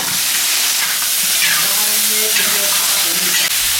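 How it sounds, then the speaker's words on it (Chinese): Chicken pieces fry in hot oil with scallion, ginger and garlic in a pan, a loud steady sizzle and crackle with occasional stirring clinks throughout. "把鸡块倒进去煎一下"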